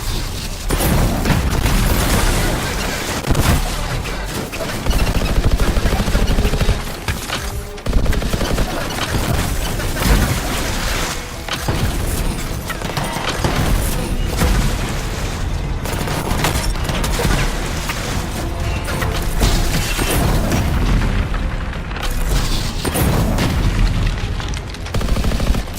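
Sustained weapon fire in the Anthem video game as shots pour onto crystals guarding a gate, a dense, loud, continuous barrage of gunfire and booming impacts with no let-up, no talk audible over it.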